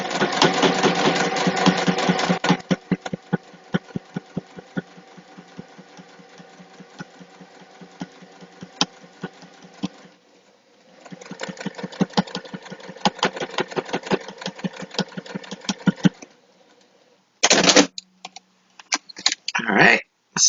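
A home sewing machine runs a top stitch at about 2.0 length along the edge of a fabric clutch wallet, a loud close whirring burst of rapid needle strokes, then a softer steady run and a brief final start-stop.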